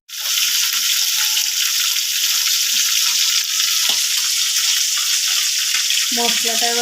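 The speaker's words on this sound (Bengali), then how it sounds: "ততক্ষণ মাছটা ভাজা হয়ে যাবে" Fish heads frying in hot oil in a kitchen pan, a loud dense sizzle starting abruptly and holding steady throughout, close by, with a brief voice near the end.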